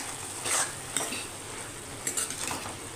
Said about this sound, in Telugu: ఇలా తిప్పేసుకోవాలండి.